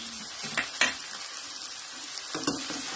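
Spices being stirred into chicken frying in a pan for chicken kosha, with a soft steady sizzle broken by a few brief scraping stirs and utensil clinks near the start and again near the end.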